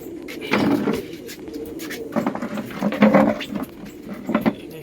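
Pigeons in a loft give a close, steady stream of soft throaty coos, with light scuffling and patter of feet and wings between the calls.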